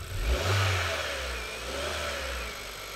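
A 2013 Kia Soul 1.6 GDi petrol engine, which runs rich, revs up sharply and then holds at a steady high hum before settling, close by and without talk.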